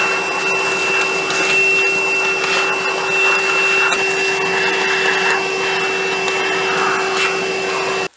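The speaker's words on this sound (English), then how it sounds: "Let's get this intake vacuumed so I can get them valve covers off," Vacuum cleaner sucking debris from the engine intake of a 1979 Dodge D300 truck, a loud steady whine with a high pitched tone and rattly gritty suction, stopping abruptly at the end.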